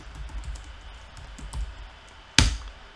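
Soft, quick taps on a computer keyboard continue for a couple of seconds and end with one sharper, louder keystroke, close and quiet with no talking.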